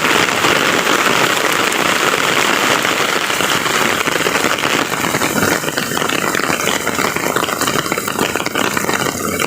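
Heavy rain pours down steadily and loudly, a dense, unbroken hiss of drops hitting surfaces throughout with no voices.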